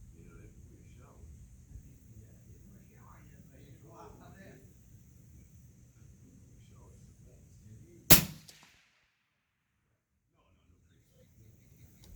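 A single loud rifle shot cracks out at an outdoor shooting range, a sharp broadband blast with a brief decay, followed by near silence after someone talks beforehand.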